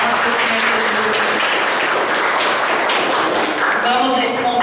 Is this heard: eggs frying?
no